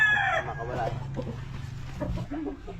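A rooster crows close by in a short, loud call, followed by softer clucking and faint background voices.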